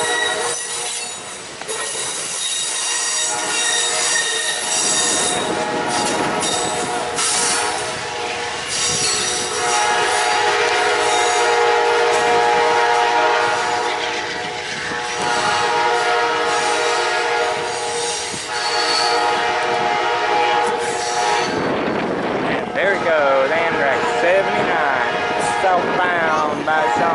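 An Amtrak passenger train passes on the line, a loud continuous roar of wheels and rail noise with squealing, and its horn sounds during the pass. The noise stays close and steady for the whole stretch.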